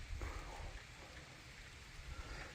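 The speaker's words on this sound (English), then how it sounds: "starting to rain" Rain begins falling outdoors during scrap-metal work by a trailer, a soft, steady hiss of drops with light scattered patter and no talk.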